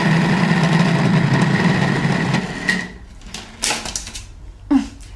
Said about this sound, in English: So put it in the processor